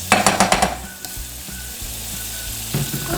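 Butter sizzles in a pan with a cinnamon stick piece while hot cross buns are made, opening with a few quick clattering stirs before settling into a steady, close frying hiss.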